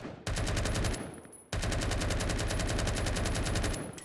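A compensator-fitted gun in Roblox Phantom Forces fires two long, steady full-auto bursts separated by a brief gap, loud and close, with a faint high tone running underneath and no speech.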